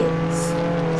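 Stallion car from Roblox Jailbreak, fitted with a level 5 engine, hums at a steady idle or cruise with a constant tonal drone and no clear revving, running alone throughout.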